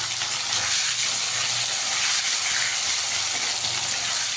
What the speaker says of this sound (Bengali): আলুটাকে দিয়ে একটু ভেজে নেব।